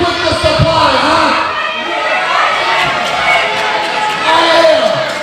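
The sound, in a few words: wrestling crowd booing a wrestler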